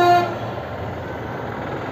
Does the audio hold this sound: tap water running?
no